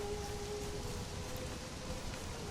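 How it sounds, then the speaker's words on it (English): Steady rain pours across a rainforest in the video game Conan Exiles, a constant dense hiss filling the scene with faint tonal hums beneath and no voices. "I don't like this rainforest because of exactly this. Constant rain."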